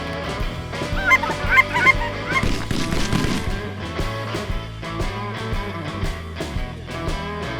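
Snow geese honk loudly in a dense, overlapping chorus during a hunt in Wyoming, with many calls repeating continuously and close by throughout.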